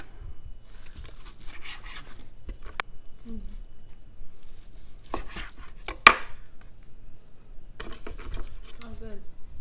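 Knife slicing through a smoked chuck roast on a cutting board, a series of soft sharp cuts in uneven bursts with one louder knock, quiet and close.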